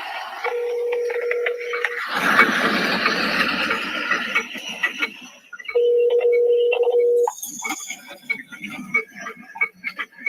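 Telephone call tones ring out over a speakerphone: a steady low ringback tone sounds twice, separated by a burst of muffled talk and noise, followed by scattered clicks and higher beeps.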